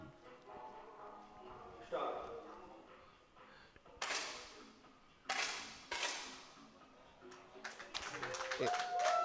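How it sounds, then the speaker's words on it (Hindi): Applause at a 10m air rifle mixed team shooting final at a youth games event, several bursts of clapping rising and fading in waves under steady commentary. "एक बार फिर देखिए तालियों की गड़गड़ाहट।"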